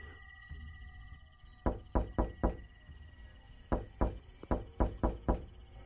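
Someone knocks on a house door late on a moonless night, in a horror story setting. Two loud, close bursts of rapid knocks stand out against a quiet background hum.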